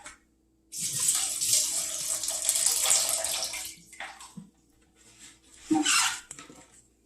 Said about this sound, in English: There's a little excess water in the bottom of this I'm going to drain off real quick.